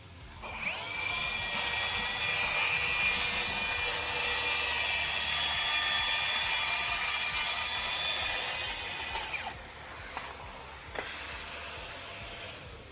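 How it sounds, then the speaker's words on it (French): A Milwaukee circular saw rips through a stack of three 18 mm OSB panels, giving a loud, steady high-pitched whine for about nine seconds before it cuts off and spins down, with faint clunks afterward. "C'était donc une coupe rapide à travers 3 panneaux d'OSB de 18 mm."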